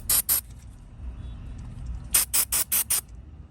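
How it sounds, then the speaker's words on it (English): Two quick aerosol bursts of cleaner sprayed on an electrical plug of a Mercedes W140 S500, a brief pause, then five more short hissing sprays in a rapid, even rhythm, close by. "now we can go ahead and spray down our plug"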